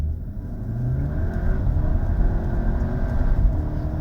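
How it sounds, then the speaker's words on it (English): Cupra Leon VZ3 front-wheel-drive hot hatch accelerating hard from a crawl, its engine droning loud and steady with a rising rumbling tone throughout, heard from inside the car. "if we take our speed right down to a creep and plant the accelerator with traction"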